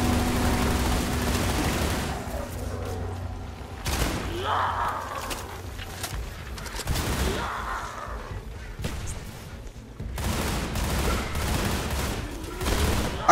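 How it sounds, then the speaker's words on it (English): Doom shotgun firing in a Roblox zombie shooter: a series of loud, sharp blasts at irregular intervals, roughly every few seconds, each with a booming tail, set over steady game background noise. "I got the Doom gun, the shotgun"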